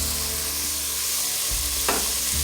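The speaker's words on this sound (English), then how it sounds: "And let that saute for a couple minutes. Okay, now we're going to add our minced garlic" Minced garlic sizzles in a pot as the base for cabbage soup, a steady frying hiss with a brief stirring scrape partway through, no talking.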